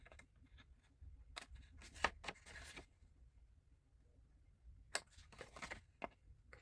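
Scissors snip through a paper template in a few short, crisp cuts, close and quiet, with pauses between bursts.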